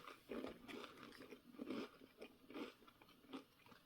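Someone chewing a U.S. MRE Italian sausage with peppers and onions in marinara sauce, several soft crunching bites in an uneven rhythm, close and quiet with no talking.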